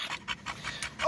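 A hot dog pants steadily, its quick rhythmic breaths pulsing close and clear with no talk over them.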